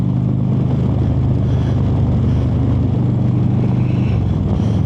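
Harley-Davidson Road Glide motorcycle engine with slip-on exhausts on a cold December ride in North Carolina: a steady, deep low rumble and growl at cruising pace, with wind noise above it and no talk.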